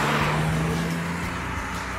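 A car passes close on a road beside a cyclist, a loud engine roar and tyre rush with a falling pitch as it goes by, then fading slightly.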